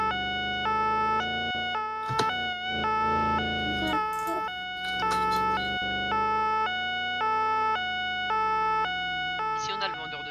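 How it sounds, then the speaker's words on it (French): Police car sirens in a roleplay video game wail in a steady two-tone pattern, loud and close, running continuously with brief bumps and clatter beneath; no one speaks. "Coupe tes sirènes"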